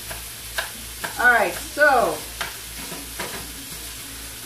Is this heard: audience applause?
no